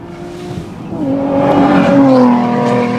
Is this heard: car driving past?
yes